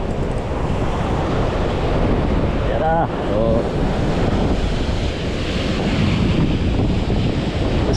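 Rogue ocean waves crash and surge in a loud, continuous roar with heavy wind buffeting the microphone, and a man's brief exclamations are heard briefly amid the churning water.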